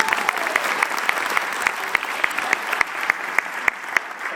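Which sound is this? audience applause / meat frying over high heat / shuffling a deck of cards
audience applause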